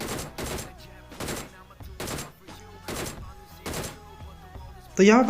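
Gunfire in PUBG Mobile, a rapid burst of loud, evenly spaced shots in a close fight, ending in a brief sharp electronic tone.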